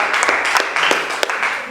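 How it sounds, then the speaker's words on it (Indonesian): Audience applause after a group presentation in a training session, a brief steady wash of clapping with a voice mixed in. "kita tepuk tangan dulu"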